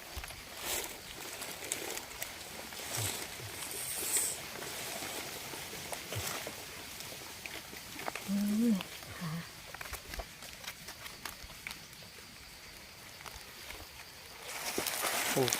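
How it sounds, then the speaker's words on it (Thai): Rain patters steadily across a hillside forest during mushroom picking, a continuous soft hiss with scattered drops and a brief faint voice. "ฝนกำลังตกลงมาเนาะ"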